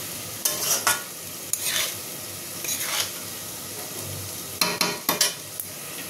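Cooked rice is stirred into Schezwan fried rice in a frying pan: a soft background sizzle is broken by several sharp spatula scrapes and clatters in uneven bursts, with no talking.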